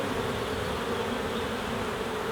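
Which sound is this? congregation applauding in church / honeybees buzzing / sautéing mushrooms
honeybees buzzing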